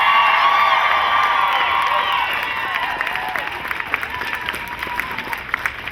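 A rally crowd outside the Capitol in Sacramento applauds and cheers loudly for a speaker being introduced, with dense, sustained clapping, whoops and shouts that ease slightly toward the end.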